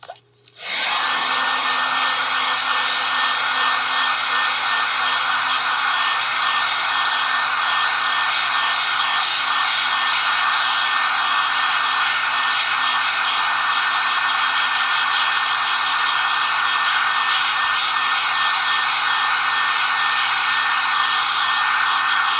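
A hair dryer blowing on wet watercolor paint during a painting demonstration: the motor kicks on after a brief click and runs as a loud, steady, close whir for the rest of the stretch, alone without voices.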